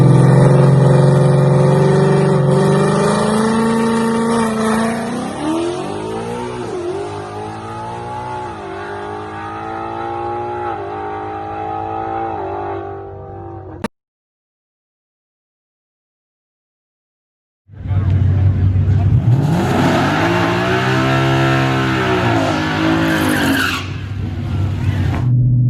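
A cammed 2018 Ford Mustang with a Coyote V8 accelerating hard down a dragstrip, loud and close, revving up through gears with rising engine pitch, a sudden cut to silence, then another roaring pull.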